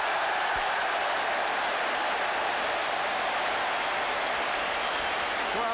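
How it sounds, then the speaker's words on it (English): A football crowd and the England bench applaud a goal by Paul Scholes in a stadium, a dense, continuous roar of clapping and cheering that sounds somewhat like heavy rain and stays steady throughout, with no one speaking. "The England bench join in the applause."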